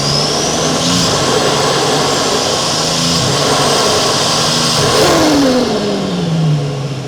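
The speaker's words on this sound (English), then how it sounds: "We're testing out some mic spots in the engine bay for turbo noises" A turbocharged car engine revs hard, picked up close from inside the engine bay, with dense broadband roar and rising and falling whine sweeping up and down through several pulls, loud and steady throughout with no voices.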